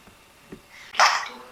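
A single sharp sneeze bursts out after a few quiet, faint sounds, short and fairly close.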